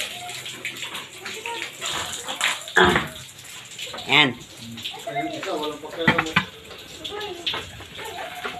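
Water runs steadily into a container indoors, a continuous close splashing flow with people talking over it.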